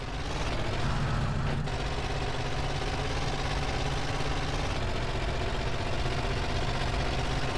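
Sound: old van engine running in GTA San Andreas video game

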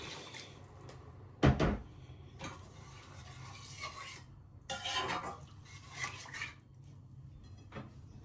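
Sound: hot water poured into curry in pot

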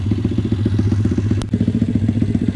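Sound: MRF 140RC pit bike motorcycle

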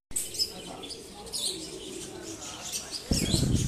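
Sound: pigeons cooing and flapping on a rooftop loft

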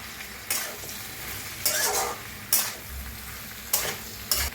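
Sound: stirring vegetables frying in a pan

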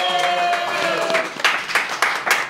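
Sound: audience applause

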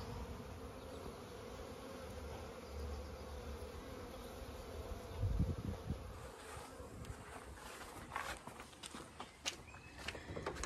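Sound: bees buzzing, flying around the new Super Hive

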